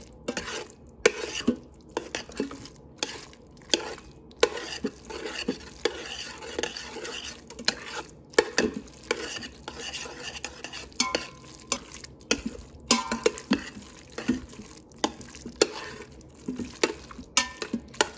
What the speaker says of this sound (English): just use a spoon to break it up and continue mixing until the butter is melted